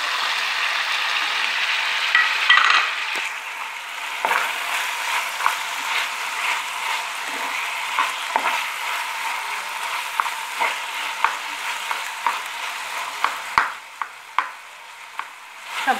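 Filling frying in butter in a pan with a turned-up flame, stirred with a utensil, a steady soft sizzle broken by repeated sharp scrapes and taps of the spoon, growing more clattery toward the end.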